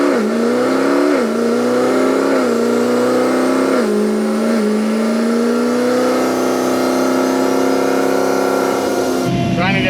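An RPM Stage 5 C7 Z06 Corvette with a supercharger runs loud and close at a steady cruise. Its droning tone wavers slightly, then cuts off abruptly at the end.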